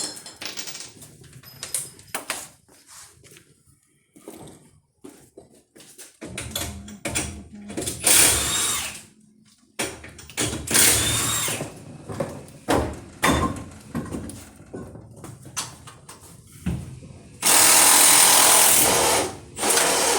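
Power tool removing a wheel from an AWD K20 turbo drag Honda EG build in a garage: loud bursts of impact-wrench whirring and rattling, close up, with pauses, clanks and a long final burst.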